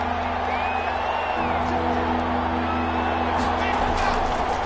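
Stadium crowd in a PS4 American football video game swells with steady, dense roaring and cheering ahead of a big third down, holding continuously under a commentator's voice.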